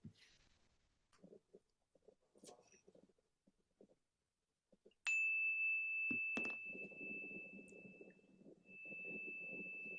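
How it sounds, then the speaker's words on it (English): A meditation chime struck once at the opening of a sangha practice session, ringing out as a single clear, sustained tone that slowly fades, preceded by faint rustling and handling sounds in a quiet room. "I'm going to invite my chime to sing, and that will initiate the beginning of this beautiful practice."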